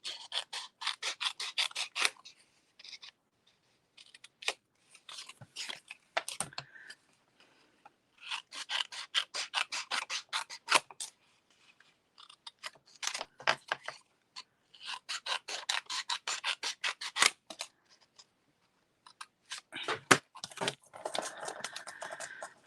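Scissors cutting paper for a floral wall-art craft: repeated dry snipping and rasping bursts, close and fairly loud, broken by short silent pauses.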